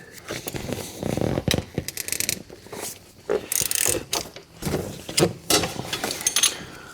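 A ratchet running in a starter bolt during a clutch job, using a socket on an extension: close, uneven bursts of ratcheting clicks and clattering with short pauses between strokes.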